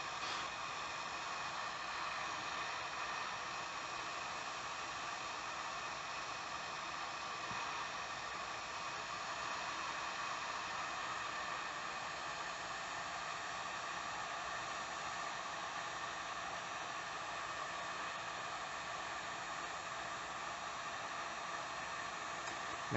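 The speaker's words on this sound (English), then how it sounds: "once this is pretty smooth and it's hot, I'll typically turn the heat gun off" A heat gun blowing hot air to shrink heat-shrink wrap onto lockpicks, a steady, even blowing hiss with a faint hum that runs unchanged throughout, close and alone.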